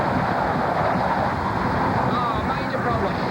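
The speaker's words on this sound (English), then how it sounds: "until a final gust of wind seals their fate" A strong gust of wind roars across open water during a sailboat race, loud and continuous, with rushing wind buffeting the microphone.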